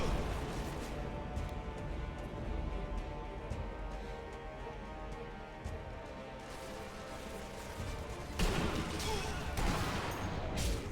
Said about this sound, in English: now they want to start shooting.